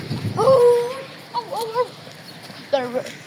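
A dog gives a few short whining yelps and barks, close by, spaced out over a few seconds with quiet gaps between.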